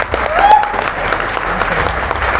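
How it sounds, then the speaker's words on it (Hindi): Clapping from a small crowd at a YouTuber meetup in Ranchi, a steady patter of hands spread through a roomy indoor space, with a brief whistle-like tone rising over it early on. "ताली बजती है"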